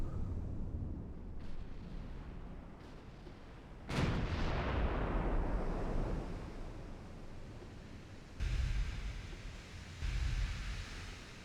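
Incoming 15-inch naval shells from battleships in Ultimate Admiral Dreadnoughts at long range, booming impacts with a big blast near the start and two more later, each rumbling out over a steady wash of sea noise.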